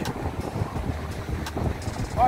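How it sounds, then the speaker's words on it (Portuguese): Gusty wind buffeting the microphone at Barra da Tijuca beach in Rio de Janeiro, a steady low rumble with a faint hiss, and a voice speaking briefly near the end. "Olha, tá ventando"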